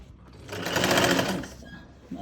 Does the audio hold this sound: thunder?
no